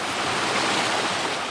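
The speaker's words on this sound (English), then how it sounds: "The waterfall greeting students on campus is peaceful and serene." A waterfall on a university campus gives a steady, loud, broadband rush of falling water that holds even and unbroken throughout, with no voices.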